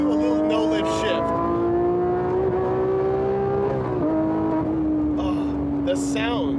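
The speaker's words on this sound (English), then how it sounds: "It enhances the shift sounds." A Porsche 991.2 GT3 Touring engine holds a loud, steady high-revving tone from inside the cabin, dipping sharply and briefly as a no-lift gear shift goes through, then pulling on at the new pitch while a voice speaks faintly.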